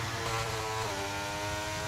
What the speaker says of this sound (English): Revving the balls off the car